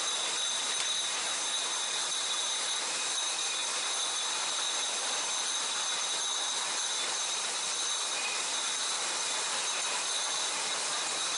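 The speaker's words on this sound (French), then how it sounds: "les bouteilles arrivent à la biduleuse et à la capsuleuse afin de fermer hermétiquement chaque" Continuous machine hiss and whir from a champagne bottling line as the bidule-inserting and capping machine seals bottles, a steady mechanical drone with high tonal whines, no distinct clicks or voices.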